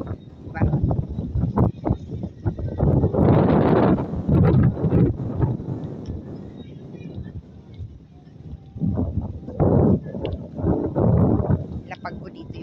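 Wind buffets an outdoor microphone in loud irregular gusts, rumbling and rustling while people talk over it.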